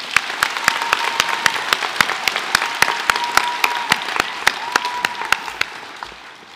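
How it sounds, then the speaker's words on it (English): Audience applause at a senior school prizegiving, steady clapping from a crowd filling the hall throughout, with sharp individual claps standing out above the dense wash and fading slightly toward the end. "Let's give them a round of applause."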